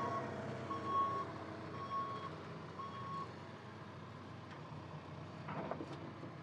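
A loader works on a construction site, setting a heavy load high onto a Diamond C dump trailer. A steady diesel engine drone runs throughout while a vehicle's reversing alarm beeps at a regular rhythm in the background.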